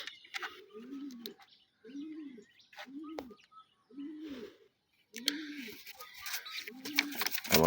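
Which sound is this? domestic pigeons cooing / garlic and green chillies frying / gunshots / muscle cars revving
domestic pigeons cooing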